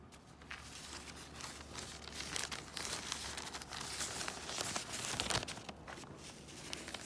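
A ripe bitter melon is torn open by hand to get at its seeds, giving close, crinkly tearing and crumpling noises that come in irregular bursts over several seconds, with no talking.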